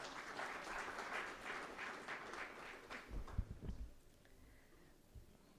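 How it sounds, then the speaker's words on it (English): Audience applause at a chartered accountants' summit, a dense burst of clapping that fades out midway, leaving a few low thumps and quiet room noise. "Can we have a huge round of applause?"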